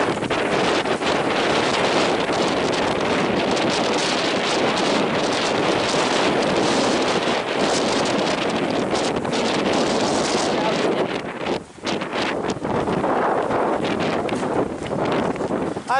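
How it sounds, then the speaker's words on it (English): Strong, gusty wind blows across the beach at Montauk and buffets the microphone in a loud, continuous roar, dipping briefly near the end. "Nah, it's just windy."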